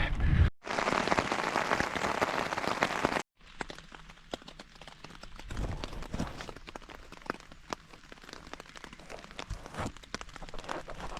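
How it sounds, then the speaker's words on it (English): Rain falls steadily at a campsite in England in June, a continuous hiss of drops on a surface, with a louder burst near the start before it settles into an even, moderate patter. "Sun and rain, England in June."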